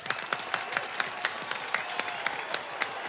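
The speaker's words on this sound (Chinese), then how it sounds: "来，掌声欢迎一下哈" A studio audience on a comedy variety show claps in quick, evenly spaced bursts, a steady rhythmic applause that runs throughout without any voices.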